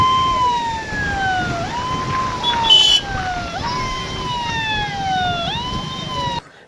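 A police car siren sounds during a Krishna river flood in a Maharashtra village, repeating long descending wails three times at a steady pace over a low background rumble before cutting off abruptly.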